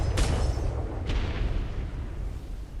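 Ship cannons firing in a Royal Navy role-play video game: two booming shots about a second apart over a loud, continuous low rumble, heavy and near.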